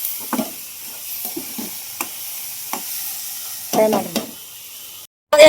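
Masala fries in a pan during home cooking of a special meal, including paneer bhaji. Soft sizzling sits under scattered stirring scrapes, with a louder cluster of clatter near the end.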